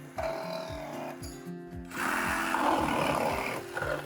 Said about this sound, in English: We'll use a reciprocating saw and mow the nails down.